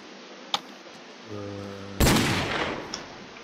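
Gunfire in the zombie game Crafting Dead, with a single loud, sharp shot crack followed by a short decaying rumble, plus a faint click before it and a small pop afterward.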